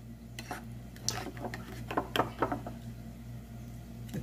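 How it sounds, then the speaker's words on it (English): A spoon scrapes and clinks against a pot while stirring a thick honey mixture with a pinch of salt, giving a few irregular metallic taps over low background hum. "Let's mix them up together."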